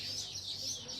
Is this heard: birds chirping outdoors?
yes